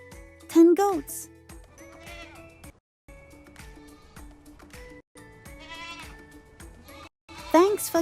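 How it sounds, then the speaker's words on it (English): Goats bleat in several short, wavering bursts with pauses between, loud and close, part of a children's counting sequence of farm animals with music or voice underneath. "10 goats."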